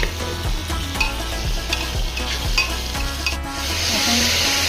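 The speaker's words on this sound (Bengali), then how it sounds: "এখন এটাকে একটুখানি ভাজব।" Curry leaves, coriander powder, turmeric and salt fry with arhar dal in a pan, a loud continuous sizzle broken by the regular scrape and knock of a spoon stirring.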